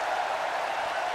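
Steady crowd cheering fills an arena during a women's wrestling match in WWE 2K18, a continuous broadband roar at constant level with no distinct voices.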